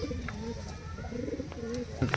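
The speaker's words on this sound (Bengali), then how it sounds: "পায়রাগুলো কত অ্যাক্টিভ পায়রা, কত ছটফটে পায়রা" Pigeons in a loft coo with low, throaty, rolling calls that go on steadily and overlap one another, with a few brief flutters and higher chirps near the end.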